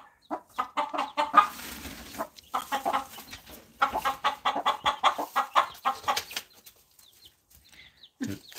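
Easter Egger or Araucana hens cluck in a run of short, rhythmic, fairly close calls that pause near the end, followed by a final low cluck.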